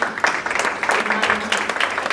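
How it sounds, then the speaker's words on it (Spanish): A congregation claps together during a church service, a steady crackle of many hands, with a preacher's voice speaking over it. "dale un aplauso al Señor"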